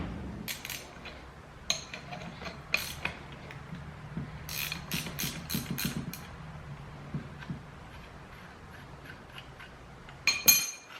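Faint metallic clinks, ratchety clicks and small knocks come and go as a shifter is removed from a Dana 300 transfer case on a Jeep CJ7, with a cluster of sharp taps midway and a clatter at the end.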